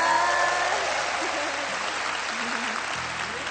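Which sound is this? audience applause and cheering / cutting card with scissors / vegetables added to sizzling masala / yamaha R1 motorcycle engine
audience applause and cheering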